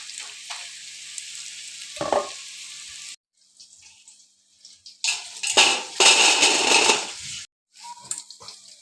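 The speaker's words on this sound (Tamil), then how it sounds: "பாவக்காய் பக்கோடா பொரிச்சு எடுத்தாச்சு" Bitter gourd pakoda deep frying in hot oil, a close, steady crackling sizzle that breaks off briefly and then swells louder, with a few clinks and stirring sounds between the bursts.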